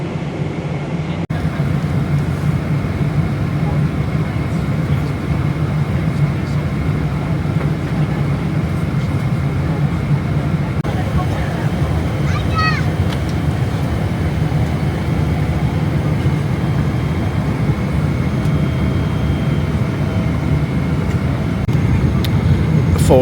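Steady, loud broadband roar inside an Emirates airliner cabin during descent into Dubai, continuous engine and air noise throughout with a faint brief chime partway through.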